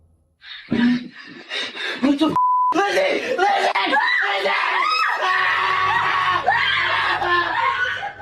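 A man screams repeatedly in a frightening nighttime scene, loud, strained cries mixed with other voices and laughter, interrupted early by a short censor beep.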